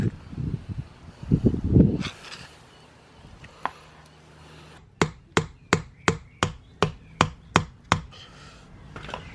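A run of ten sharp, evenly spaced hammer strikes on metal rings out after some rustling and handling noises, close and crisp, while a Toyota Supra JZA80 differential is being opened.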